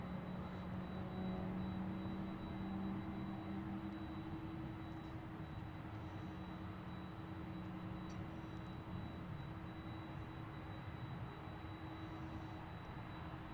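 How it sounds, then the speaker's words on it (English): A 14-year-old Airbus A330 widebody jet departing for Honolulu, a broad steady engine roar with a faint high whine, sustained and fairly distant, no talking. "It's a 330 that is 14 years old"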